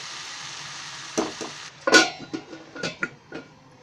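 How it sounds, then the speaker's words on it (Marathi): A lid set on a pan of ghevda bhaji, a few close metallic clanks and small rattles against a faint sizzling background, no speech. "आता मी थोडं झाकण ठेवते"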